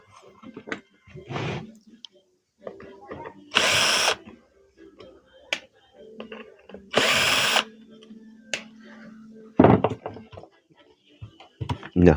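A power tool opens the casing of an active speaker in a repair workshop, whirring in two loud, sustained bursts between sparse clicks and handling clatter.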